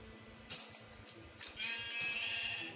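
Sheep bleating in the Minecraft video game, a couple of short game-sound bleats over a low steady background, fairly faint and close.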